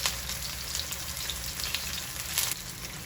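Onions and scallions sizzle in a hot pan, a dense, even crackle heard up close with no talking.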